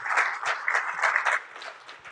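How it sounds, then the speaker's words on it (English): Convention crowd at a live expo session gives a warm round of clapping for the sponsors, a dense burst of hands that fades toward the end. "give a warm round of applause for all the sponsors"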